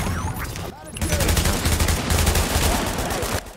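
Rapid gunfire rattles from turrets in The Division, a dense, sustained burst of shots close and loud for several seconds, briefly dropping out before resuming, with a short pause and tail at the end.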